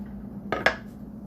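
Metal cutlery being picked up while cooking pansit in a home kitchen, two quick light clinks close by over a low steady hum.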